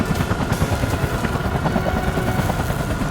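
A helicopter in the Front Mission 3 remake: a dense, steady low rotor drone with a chopping pulse, loud and close throughout.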